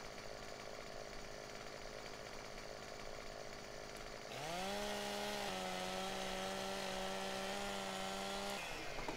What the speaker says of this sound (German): ich wollte dir gerade einen Baum absägen